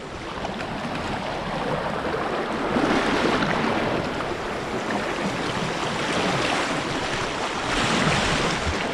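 Ellenborough waterfall in flood roars with dense, loud rushing water, a steady full-bodied torrent that swells slightly in places and runs without pause.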